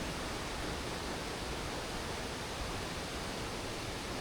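Mother Falls, a waterfall in Aurora in the Philippines, gives off a steady, even hiss of rushing water, constant and fairly soft, with no voices.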